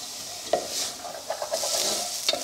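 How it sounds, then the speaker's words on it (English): Onions, carrots and bacon sizzle steadily in a pan as the base for a bolognese sauce, a continuous close frying hiss broken by a few sharp stirring clicks and scrapes, with no talking. "the onions and the carrots and the bacon are browning off again"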